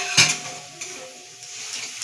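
White sesame and chili paste hits a hot pan for a potol (pointed gourd) curry, giving a sharp sizzle and a utensil clack at the start, then steady frying hiss with light stirring.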